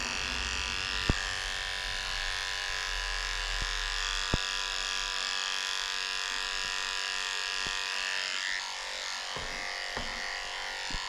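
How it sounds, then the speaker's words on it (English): Electric clippers fitted with a 10 blade shaving a Yorkie's fur, a steady close motor buzz running throughout with a few faint clicks. "I'm shaving her out a potty path, shaving underneath her tail with a 10 blade"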